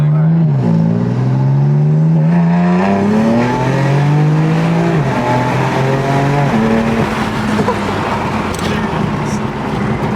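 Single-turbo BMW 335 rising through the revs, a loud close engine note climbing and dropping in steps as gears change, with people talking over it throughout.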